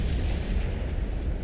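A tank cannon fires in an online tank battle game, one heavy deep boom filling the short moment, close and loud, with a sharp crack of another report cutting in at the very end.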